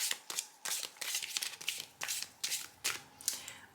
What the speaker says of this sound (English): So let me just shuffle this quickly once more